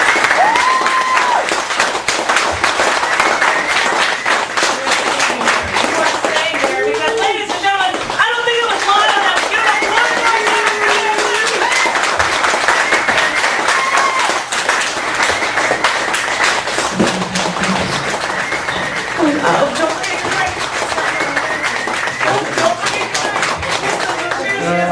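Audience applause fills a cafe gallery cabaret in Chicago after a poetry reading, a steady, dense wash of clapping sustained throughout, with voices and cheers mixed into the crowd noise.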